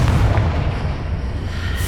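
A Confringo fire spell in Hogwarts Legacy erupts as a deep, sustained boom that rumbles loudly for two seconds, with a bright crackling burst rising near the end.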